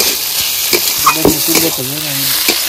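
Gobindobhog rice being stir-fried with spice masala in a pan for a muri ghonto made with a catla fish head gives a loud, close sizzle, broken by rhythmic scraping strokes of a spatula and a faint tonal sound in the background.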